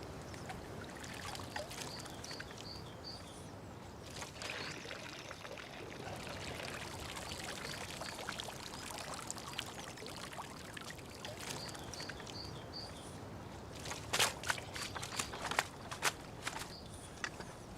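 Pond water being tipped gently out onto the edge of a garden pond, a steady wash of pouring and trickling with splashes and soft knocks, growing busier toward the end.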